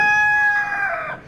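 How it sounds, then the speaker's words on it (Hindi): A rooster crows once close by, a bright drawn-out call that slides downward and trails off over about a second, loud and alone. "मुर्गा बहुत प्यारा है और अजान भी कितनी प्यारी देता है"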